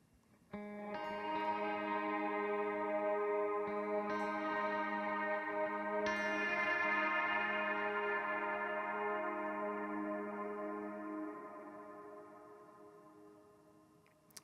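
Sustained electric guitar chords ring out with a dotted-rhythm delay repeating each strum, washed in a large, lush reverb tail that fades slowly.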